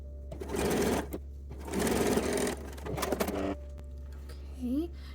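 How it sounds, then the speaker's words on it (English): A sewing machine sews a 1/4 inch seam on a teddy lingerie piece in three loud bursts of rapid whirring stitching separated by brief pauses, followed by a short squeak near the end. "And now we're going to sew this seam with a 1/4 inch seam allowance."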